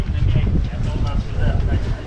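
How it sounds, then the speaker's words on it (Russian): Steady blustery wind gusts rumble across the microphone by the sea at Anapa, loud and continuous over the short stretch. "И сразу ветер дует,"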